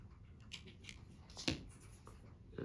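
Small scissors trim tying thread on a fly-fishing ant pattern, giving a faint close snip or two against a quiet background.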